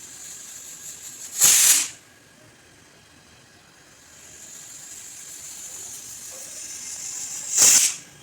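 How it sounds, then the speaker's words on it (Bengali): Pressure cooker on a kitchen stove letting off two loud, sharp hissing steam whistles about six seconds apart, with a softer steady hiss building between them and no talking. "তিনটি সিটি দেওয়ার পর আমি এটা অফ করে দিচ্ছি।"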